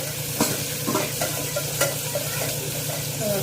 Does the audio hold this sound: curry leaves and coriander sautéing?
yes